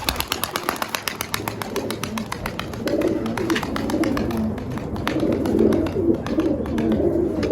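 A tumbler pigeon takes off with a rapid series of sharp wing claps, then flutters away as soft cooing from other pigeons continues close by.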